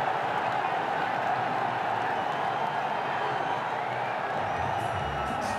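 Stadium crowd at a Bangladesh vs Sri Lanka T20 cricket match roars steadily after back-to-back sixes, a dense continuous cheer and clapping wash that holds loud throughout.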